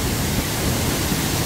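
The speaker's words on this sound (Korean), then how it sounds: "폭포가 눈앞에 펼쳐집니다." Hongryong waterfall at Hongryongsa temple, a drop of roughly 15 to 20 metres throwing heavy spray, gives a steady, dense roar of falling water that holds unbroken and close throughout.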